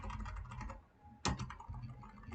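Keys are typed on a computer keyboard in quiet, close clicks, with one sharper, louder press of the Enter key standing out midway.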